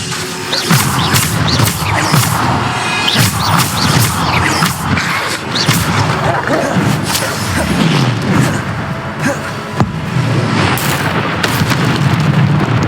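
Bombarda explosion spells in Hogwarts Legacy combat: a continuous barrage of loud, close booms and bursts, one after another, with crashing debris throughout.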